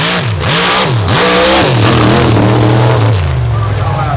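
A drag race car at an MRA opens and mods event revs hard against its trans brake, loud and near, with the engine pitch swooping up and down before holding steady, while a commentator talks over it.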